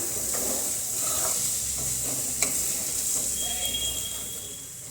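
Potato and radish pod sabzi gets stirred in a pan with a soft, steady hiss of steam and faint scraping underneath, with a single sharp clink partway through, close and fairly quiet.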